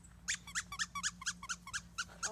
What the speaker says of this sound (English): Squeak that squeaky toy again.